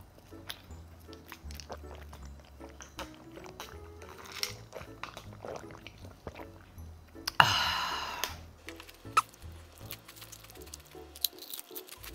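Crunchy potato chips being bitten and chewed up close, a steady run of crisp crackles, with a louder rustle of the bag partway through and brief talk around it.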